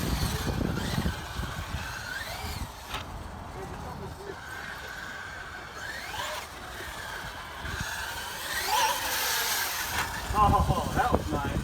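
Traxxas UDR RC truck racing around a dirt track, its small electric motor whining up and down in repeated rising sweeps, with wind noise and a voice talking over it.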